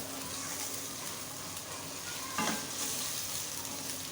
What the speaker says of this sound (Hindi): साथ ही थोड़ा सा इसको फ्राई करें, थोड़ा सा यानी कि भुनाई करें।